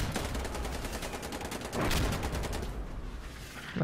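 Rapid gunfire from a firefight in Insurgency Sandstorm, with dense overlapping shots that swell into a heavier burst midway before thinning out, sitting close and loud throughout with no talk over it.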